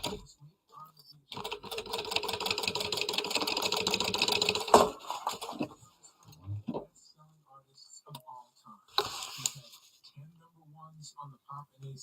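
Sewing machine stitching down a gusset lining, a steady close rapid stitching run of about three and a half seconds, then soft handling clicks and a second short burst of stitching.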